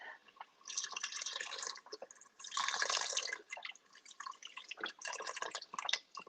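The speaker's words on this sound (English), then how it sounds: "I'm going to let it bubble up some more." Rice simmering in liquid in a pot, giving a quiet, busy patter of small bubbles and pops that swells and fades in bursts, close and soft with no voices.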